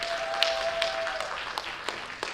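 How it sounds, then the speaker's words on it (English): Light, scattered audience applause at the Miss Vietnam Wichita Scholarship Pageant, a few sparse claps over a faint room tone with a soft held tone early on. "another round of applause please for Anh Ngọc Thiện Nguyễn"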